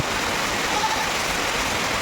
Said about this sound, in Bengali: দেখো কি বৃষ্টি হচ্ছে